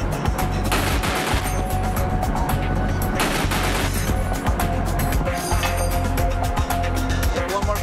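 Continuous, loud bursts of .50 caliber machine-gun fire on the bow of a Coast Guard cutter during a live-fire exercise at sea, rapid shots blurring into a dense, unbroken roar.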